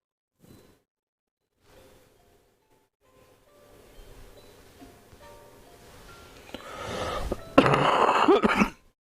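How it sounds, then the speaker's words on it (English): A burst of harsh coughing builds up and grows loud near the end, after a few quiet rustles and faint sounds. "Another bit of a coughing session."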